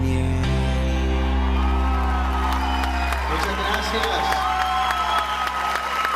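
Audience applause with some cheering and whoops at a church gathering, rising after a loud held musical chord cuts off, while a voice speaks briefly over the clapping.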